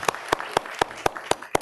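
Applause after a presentation at a city council grant hearing is heard as a string of sharp, evenly spaced claps, about four per second, close and clear with no talking.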